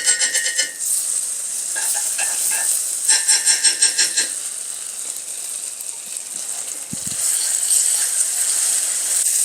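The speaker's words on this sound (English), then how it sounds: "we want to keep sauteing this until the oil that's surrounding the paste, the tomato paste, starts getting a little coppery" Tomato paste sautéing in oil in a pan, a steady bright sizzle with bursts of rhythmic scraping as a utensil stirs through it, close and continuous.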